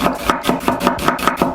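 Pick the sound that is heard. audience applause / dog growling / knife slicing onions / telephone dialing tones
knife slicing onions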